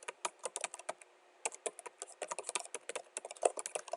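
Rapid, uneven clatter of typing on a computer keyboard at a network backup appliance configuration prompt, close and clear, with bursts of keystrokes and a short pause near the start.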